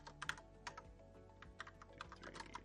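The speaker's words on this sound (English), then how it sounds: "We're going to just go ahead and manually type in some arbitrary" Names being typed by hand on a computer keyboard, a steady run of light, quick key clicks with uneven rhythm, close and fairly quiet, with no voices.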